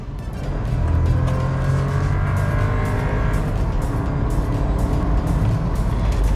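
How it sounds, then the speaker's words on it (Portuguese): A lowered 2023 VW Polo with a turbo engine and manual gearbox accelerates hard, its engine a loud, sustained roar that builds steadily from start to finish. "Pouquinho de turbo lag no começo, isso antigo também já tinha, mas uma aceleração muito rápida e progressiva depois também."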